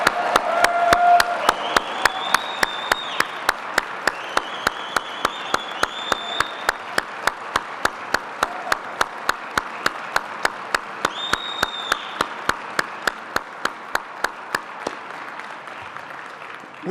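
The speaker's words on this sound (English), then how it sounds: "Let's give them an outstanding round of applause." Crowd at a ribbon-cutting in a newly built arena applauds the union laborers who built it, a sustained roar of clapping and cheers filling the large space, punctuated by regular sharp clicks throughout.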